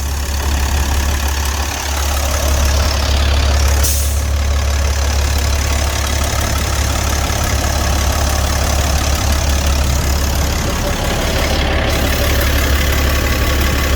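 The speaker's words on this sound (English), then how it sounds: "She idles nice and steady at 700, very smooth." A Caterpillar C12 turbo diesel in a 2000 Peterbilt 379 truck idles smoothly and steadily at about 700 rpm, a loud, continuous low rumble heard up close with the hood open.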